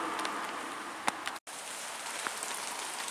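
Steady rain patters and hisses on surfaces all around on a walk near Windermere, close and even, with a few louder drips and a brief cut-out, no talking.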